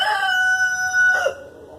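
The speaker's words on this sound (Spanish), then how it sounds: "Este gallo es un gallo cantante." A rooster crows once in a sunny neighbourhood street, loud and close. It is a single long, clear crow that breaks off sharply at the end.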